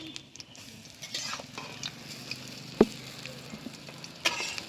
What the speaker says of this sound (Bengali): এবার আমি ভালো করে উল্টি ভেজে নেব এগুলো।